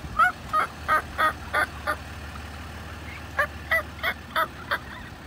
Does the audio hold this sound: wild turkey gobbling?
yes